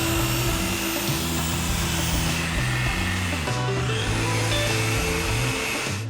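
A low-speed buffer with a light buffing pad whirs against classic truck paint, a loud steady motor drone whose pitch dips and rises as the pad is pressed and eased across the surface.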